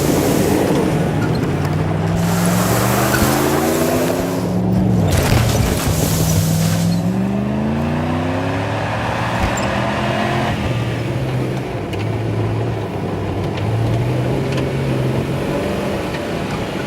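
A vehicle drives steadily along, its engine droning loud and close with rising and falling gear tones and a continuous rushing road noise throughout.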